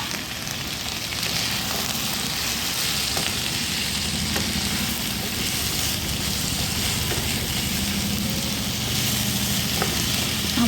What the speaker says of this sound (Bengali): আবারও সবগুলোকে একসাথে ভালো করে ভাজছি।